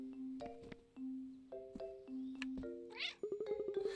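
Stylized cat meows from the Cat Quest video game, several short tonal mews in sequence with game chimes and effects, moderately loud with no talking.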